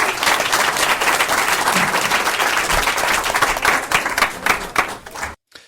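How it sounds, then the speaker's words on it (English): A live audience applauds during a panel talk, a dense, steady wash of clapping that stays loud for about five seconds before cutting abruptly to silence. "I left in the applause there for Joseph's comment."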